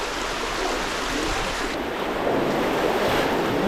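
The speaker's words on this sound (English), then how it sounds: "Actually quite high, this river, it's really pushing through." A swollen, fast-flowing river rushes in a loud, continuous broadband wash, close by with some wind noise and no talk.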